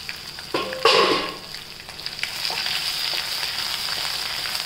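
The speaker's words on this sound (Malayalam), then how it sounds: "അതിലേക്ക് എടുത്തു വെച്ച ജിഞ്ചർ ഗാർലിക് പേസ്റ്റ് ചെയ്ത് ഇടാം." Ginger garlic paste drops into hot oil with curry leaves in a pan for a squid roast, giving a loud burst of sizzling that settles into a steady, close frying hiss with no talk.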